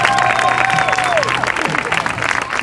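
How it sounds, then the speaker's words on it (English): A crowd at a bikers reunion in New Liskeard breaks into loud, steady applause with cheering, sustained and close throughout, while a tonal whistle-like sound fades out early on. "how about we give her one more round of applause?"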